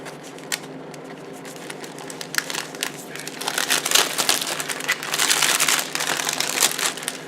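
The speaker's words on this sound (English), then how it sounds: "I have to unseal the resealable plastic bag first." Crinkling and rustling of a resealable plastic bag being pulled open, starting with sparse crackles and growing into denser, louder crumpling toward the end, close up and alone without talk.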